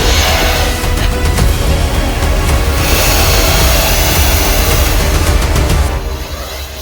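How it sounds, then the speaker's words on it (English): Broadband roaring rush, loud and steady, from a homemade foam-board RC jet's engine running outdoors in strong wind, fading slightly near the end with no voices over it. "Don't turn off the engine, whatever."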